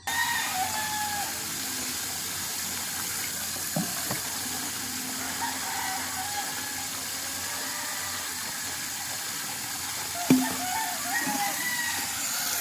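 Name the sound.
chickens and rooster crowing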